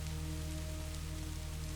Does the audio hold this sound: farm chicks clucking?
no